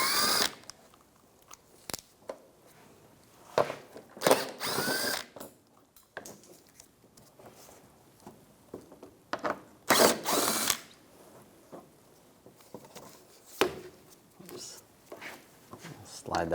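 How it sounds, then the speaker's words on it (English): Ratchet wrench with a 10mm socket removing bumper bolts on a 2004-2009 Toyota Prius, giving bursts of clicking ratcheting and metallic taps, with a voice speaking in between. "Using a 10mm socket, take all these bolts out"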